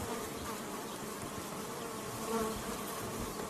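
Honeybees buzzing as a hive is opened for inspection, a dense continuous drone of many bees close by, steady throughout with no voices.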